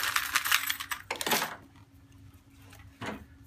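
Keys scraped and jangled against an iPhone 6 screen, a burst of close metallic clinking and scratching that stops abruptly, followed by a quieter pause and one more brief jangle near the end.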